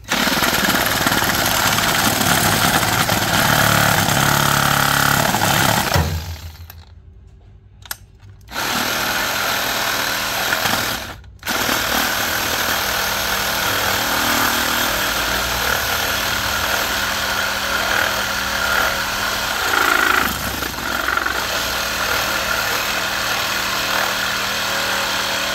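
Handheld reciprocating saw, a garden-use cordless model, cutting through a thin wooden board: a loud, steady rattling buzz that runs almost throughout, breaking off twice in short pauses before resuming at full strength.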